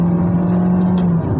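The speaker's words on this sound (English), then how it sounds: "you really feel or get irritated by the engine noise" Engine of a 2020 Honda Jazz with a CVT accelerating, a steady droning hum holding one pitch from inside the cabin, with no speech over it.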